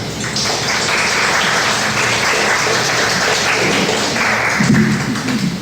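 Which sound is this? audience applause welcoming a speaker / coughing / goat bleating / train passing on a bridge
audience applause welcoming a speaker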